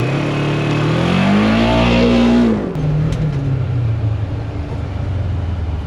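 A Polaris Xpedition ADV 1000 UTV driving fast on a dirt trail, its engine loud and close, rising in pitch through the gears before easing off into a rougher, lower drone as the vehicle bounces along.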